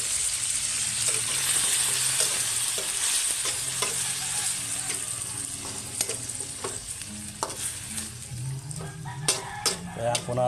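Food fries in a pan with a dense, continuous sizzle that slowly eases off, broken by frequent clinks and scrapes of a utensil stirring close by.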